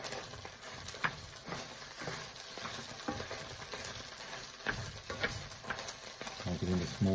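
Fried rice with soy sauce frying in a pan while a utensil stirs and breaks it up, giving a steady sizzle with scraping clatters and knocks throughout, and a voice heard faintly near the end.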